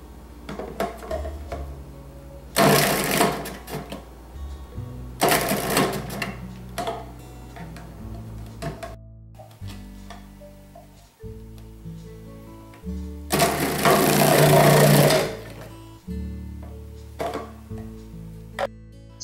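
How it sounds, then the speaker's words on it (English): Food processor slicing shallots, heard as three loud bursts of whirring and rattling chopping, each lasting one to two seconds, with quieter clatter and handling in the gaps between them. "Then I slice them using a food processor."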